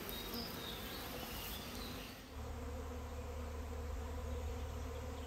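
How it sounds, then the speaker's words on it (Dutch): A honeybee swarm pouring out of a hive in a food forest fills the air with a dense, steady buzzing from many bees. It sounds close and continuous, with a low hum that swells midway. "De tweede zwerm is aan het zwermen."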